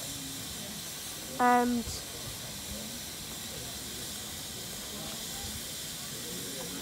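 Freight train standing at a heritage railway gala with a constant broad steam hiss, a short bright whistle-like tone cutting in briefly, distant and outdoors, with a few faint spoken words.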